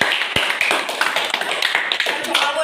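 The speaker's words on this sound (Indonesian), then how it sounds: "Kasih aplaus untuk Putri." Classroom applause for a student named Putri during a group guidance session, a short burst of clapping from several people, fairly close and steady, with a voice briefly speaking over it.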